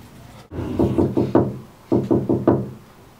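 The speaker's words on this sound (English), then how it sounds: "Wake, Duncan, with thy knocking." Two quick sets of four sharp knocks on a wooden door, loud and close, separated by a short pause, with no voices.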